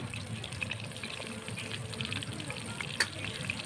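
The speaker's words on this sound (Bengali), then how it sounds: "দুটো দুটো করে ভাজি সামান্য একটু হলুদ দিয়ে দিচ্ছি" Cabbage pieces frying with turmeric in a pan, a steady close sizzle and crackle with light stirring scrapes and one brief sharp clink near the end.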